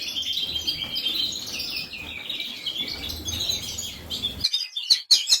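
Gloster Canaries chirp and twitter in a birdroom, a dense chorus of high tweets running continuously before a brief lull and a few sharp closing calls.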